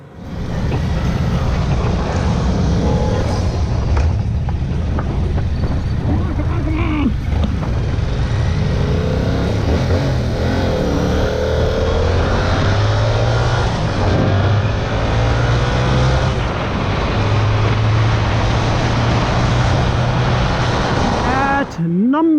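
Yamaha YZF-R7 motorcycle engine pulling through traffic, a loud continuous drone with rising and falling revs and pitch sweeps, close and steady throughout with other traffic mixed in.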